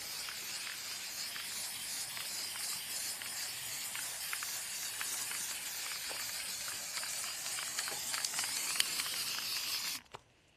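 A spray paint can hisses almost continuously for about ten seconds while prop tree building goes on, with short breaks and small clicks, then cuts off near the end. No one speaks.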